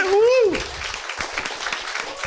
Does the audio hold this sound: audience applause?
yes